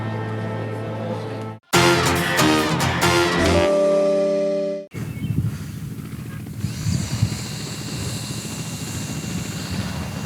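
A short burst of music gives way to a helicopter's steady, whirring rotor drone over Prague that continues to the end.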